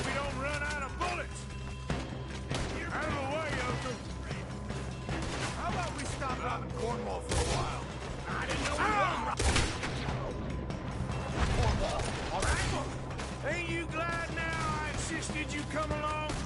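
Gunfire in the video game Red Dead Redemption 2 on PS5 during a robbery shootout, with repeated shots and crashing impacts mixed under frequent character dialogue.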